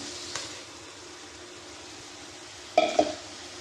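Blended tomato poured into hot oil in a pan while cooking a prawn dish bursts into a sudden loud sizzle and splatter, following a quiet, steady low hiss from the pan.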